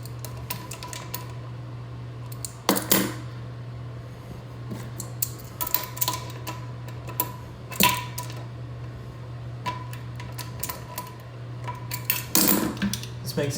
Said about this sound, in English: Want to take the tank bolts off.